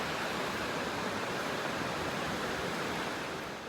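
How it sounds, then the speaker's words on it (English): An outdoor waterfall rushes in a steady, even roar with no breaks. The sound is fairly soft and there are no voices. "Cool looking waterfall."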